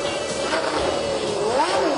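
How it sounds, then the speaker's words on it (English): The engine of the 1990 Ferrari Formula One car once driven by Alain Prost whines as it accelerates, its pitch rising and sweeping steadily, loud and close over a broad mechanical roar. "This is the car that Alain Prost drove in the 1990 World Championship"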